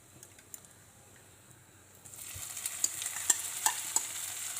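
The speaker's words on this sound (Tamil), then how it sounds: "இப்போ இதே எண்ணெயில் இதை நம்ம ஃப்ரை பண்ணி எடுத்துடலாம்" An onion, paneer and cabbage mix fries in oil. After a quiet start, a soft, steady sizzle rises, broken by a few light taps of stirring.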